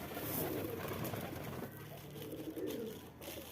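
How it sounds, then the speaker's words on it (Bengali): Pet pigeons gathered at feeding and watering time coo softly and repeatedly nearby, low murmuring calls overlapping in a quiet home setting. "এই যে সব কবুতর খাবার জন্য চলে এসেছে"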